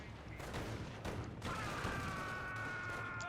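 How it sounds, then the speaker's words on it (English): Gunfire from a Sd.Kfz. 234 armored car's autocannon in the World War II strategy game Company of Heroes: a busy battle mix of overlapping shots and bursts, with a tonal whine sliding in partway through, no talk. "234 there firing away with its autocannon."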